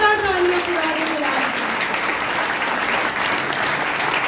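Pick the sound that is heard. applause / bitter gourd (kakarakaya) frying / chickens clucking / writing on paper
applause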